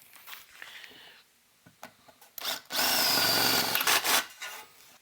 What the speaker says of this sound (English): So I'm going to go ahead and drill these holes out here